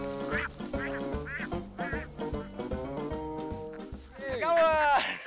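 Duck quacking in a Malaysian kampong setting, repeated quacks over a steady rhythmic background, ending in a louder, nearer burst of calls.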